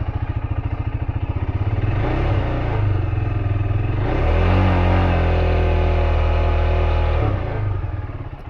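KTM 390 Adventure single-cylinder engine fitted with a cheap slip-on exhaust, idling in a loud, steady throbbing putter that swells twice into sustained higher revs around 4,000 RPM before settling back, close and continuous with no talking.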